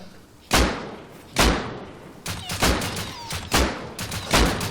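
Gunfire in the online survival game Rust, with six separate loud, sharp shots spaced roughly a second apart and fading tails between them.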